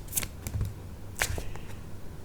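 Tarot cards shuffled and drawn by hand, a few quick papery riffles and slaps spread over a couple of seconds, close and fairly quiet.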